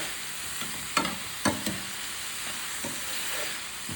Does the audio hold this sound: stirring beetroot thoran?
yes